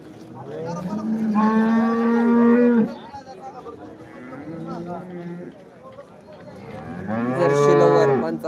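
Several cows moo loudly at a cattle market, with long drawn-out calls in close succession and a brief quieter gap between them.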